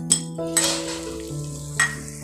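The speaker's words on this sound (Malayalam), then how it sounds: "നമുക്കിതിലേക്ക് മുന്തിരി കൂടെ ചേർത്ത് കൊടുക്കാം" Raisins frying in a pan for thari kanji, a soft sizzle under three sharp metallic scrapes and clinks of a spoon against the pan, with a faint steady hum beneath, no voices.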